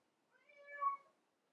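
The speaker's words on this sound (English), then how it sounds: "Why is my cat meowing?" A single drawn-out cat meow, rising and then fading, close and clear against a silent background.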